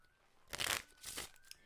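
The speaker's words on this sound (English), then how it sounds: "To get them ready, I shuffle" A deck of playing cards is riffle-shuffled by a magician: two brief, soft papery riffling bursts close by, with no talking.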